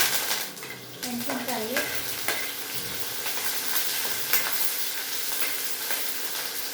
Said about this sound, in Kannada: ಚಟ ಚಟ ಅಂತ ಇದೆ ನೋಡಿ